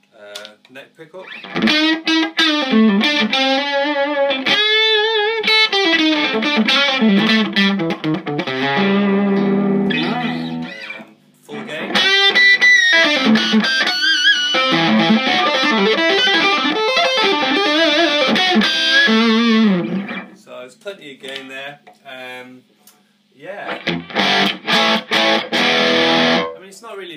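Electric guitar played through the neck pickup of a Danplifier Killer Rabbit amp, with thick gained-up hard-rock tone, sustained chords and lead lines ringing out in loud phrases, with brief pauses between them.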